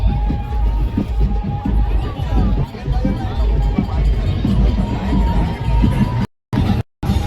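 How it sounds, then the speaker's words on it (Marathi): A large outdoor crowd murmurs and calls out steadily along Kundalika creek during a sailboat race in the Konkan, a continuous rumbling hubbub that cuts out briefly twice near the end. "पाण्यातला जल्लोष बघण्यासाठी पब्लिकची क्राऊड बघा."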